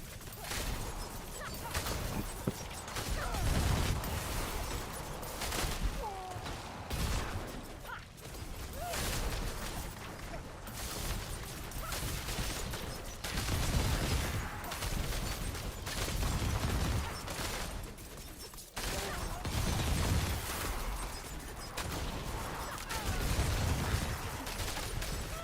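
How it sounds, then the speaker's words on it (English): Explosions and bursts of combat in the Diablo 4 action role-playing game, fought by a Rogue in a high-tier Abattoir dungeon: dense, continuous loud blasts and clatter with rhythmic pulses, running nearly unbroken throughout. "So many explosions here. What is going on?"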